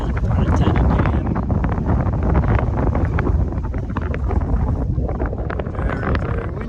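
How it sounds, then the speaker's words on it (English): Strong wind roars steadily at the top of a fire tower overlooking Fontana Lake and Fontana Dam, a loud continuous buffeting against the microphone for the whole stretch. "Very, very windy."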